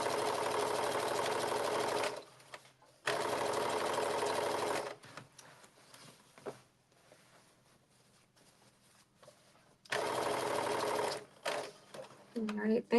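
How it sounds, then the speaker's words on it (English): A sewing machine stitches a blazer seam in rapid whirring bursts, two short runs separated by a pause, then quieter handling and a final burst, with a voice talking in between. "So let's stitch quarter a half an inch all the way across the bottom left side."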